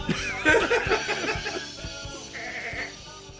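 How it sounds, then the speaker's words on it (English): A goat bleats in a quavering, wavering cry near the start, followed by softer rhythmic knocks and murmuring background noise over a few seconds. "It's the fucking goat."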